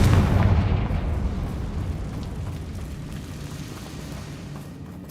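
A Confringo blasting-spell explosion in the Hogwarts Legacy video game, a loud booming burst up front whose rumble slowly fades and trails off over several seconds, no voices.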